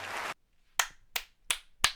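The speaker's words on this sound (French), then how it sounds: "Faut que j'applaudis à mon tour" A single person claps four sharp, evenly spaced times, close and dry, after a brief burst of noise at the start.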